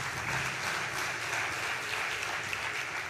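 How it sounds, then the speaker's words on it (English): An audience at a post-budget event claps steadily, a dense wash of hand clapping filling the room at an even level throughout. "That wasn't a big enough hand clap for her."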